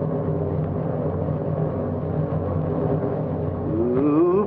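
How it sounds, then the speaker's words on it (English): A 1956 Chevrolet stunt car driven on two wheels at a thrill show, a steady engine drone that climbs in pitch near the end, with no talk over it. "Balanced frame construction is what lets us ride this two-wheel tightrope."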